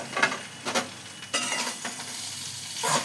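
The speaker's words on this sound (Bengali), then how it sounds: "আর এটা বেশ লাল লাল করে ভাজা হবে।" Ridge gourd coated in gram flour fries in a pan with a steady crackling sizzle, broken by several sharp scraping stirs of a spatula, close and clear with no voices.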